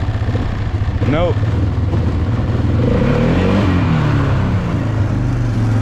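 A Polaris Trail Boss ATV engine runs rough in the snow, a loud, uneven low chugging close by, with a person speaking briefly over it.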